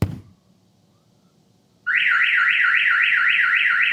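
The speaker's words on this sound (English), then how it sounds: "So right now it's recording because we have an alarm event going on." After a quiet pause, a loud alarm on a RAM TRX pickup kicks in with a rapid rising-and-falling electronic warble that repeats steadily.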